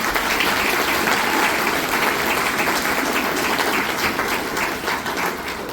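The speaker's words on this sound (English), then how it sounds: "big round of applause for Lori for organizing all of this." A big round of applause from a meeting crowd in Marmora, dense and steady clapping that stays loud and close from start to finish with no voices over it.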